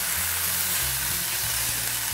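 Batter made from leftover rice hisses in a hot nonstick pan greased with a little oil: a steady, close, broadband sizzle running unbroken under a low background hum.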